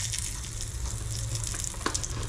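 Chillies fry in a shallow layer of hot oil, a close, even crackling sizzle with a single small clatter near the end and no voices.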